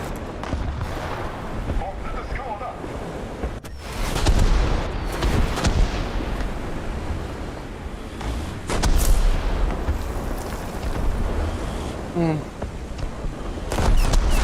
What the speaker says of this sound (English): this Bofors gun is so good